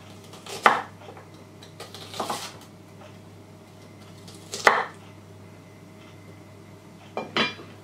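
A kitchen knife dicing food into small pieces on a cutting board, with four sharp, crisp chops spaced a couple of seconds apart, close and fairly loud against a quiet background.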